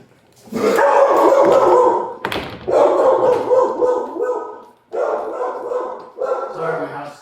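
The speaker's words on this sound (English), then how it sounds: "The dog's kenneled." A kenneled dog barks loudly and close in repeated bursts, with short gaps between them and a sharp bang partway through.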